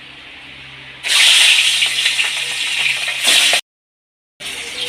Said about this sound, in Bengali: এবার পাঙাশ মাছগুলো আমি ভেজে নেব